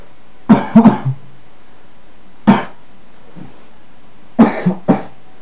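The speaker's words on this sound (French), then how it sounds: "J'essaie de mettre mes mains devant la bouche pour éviter de faire trop de bruit quand je tousse." Someone coughs into cupped hands during a GTA V Online sniping session, in three separate muffled bursts: a double cough, then a single one, then another cluster of two or three, each close and short with quiet pauses between.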